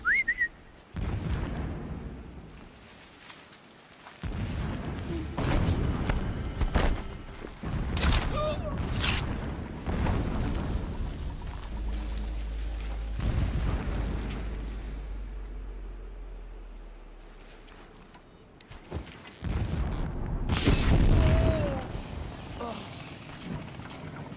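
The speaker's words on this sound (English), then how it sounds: "Every time they set off another blast, my ears ring." Explosive blasts go off in the Horizon Zero Dawn video game during a fight near a tall neck, with loud bursts and whistling tones mixed with game effects and a player talking over them.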